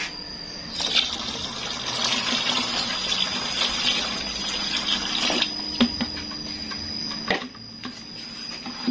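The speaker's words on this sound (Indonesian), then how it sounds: "Nah, kita akan tambahkan air yang kedua." Water pours steadily into a JADAM sulfur mixture, a continuous close splashing gush with a few knocks and clinks of the container near the end.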